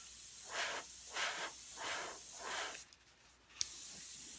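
An airbrush sprays a paint mix of titanium white, burnt sienna and raw umber onto model horse hooves in five soft, even hissing bursts, followed by a brief pause and a single small click.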